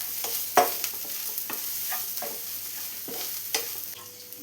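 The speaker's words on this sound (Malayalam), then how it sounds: "ഇതെല്ലാം കൂടെ ഒന്ന് മിക്സ് ചെയ്ത് കൊടുക്കാം" Lentils and fenugreek seeds stirred in a pan while frying for Kerala sadhya sambar, with scattered scraping strokes over a steady soft sizzle, close and moderately quiet.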